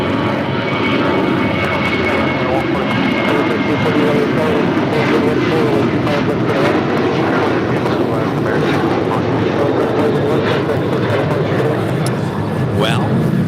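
An airliner takes off at LAX with a loud, continuous roar of jet engines close by, and voices come through faintly beneath it.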